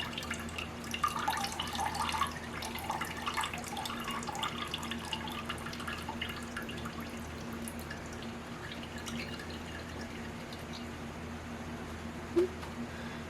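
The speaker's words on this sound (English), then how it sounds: "I'm just kind of helping the water drain a little bit." Water slowly draining through a coffee filter holding rinsed tomato seeds, heard as soft, sparse drips and trickles over a low steady hum, faint and close.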